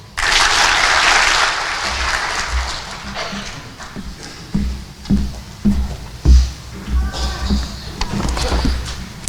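Audience applause at a graduation commencement ceremony, a loud burst of clapping at the start that thins into scattered claps and movement, with some talk underneath.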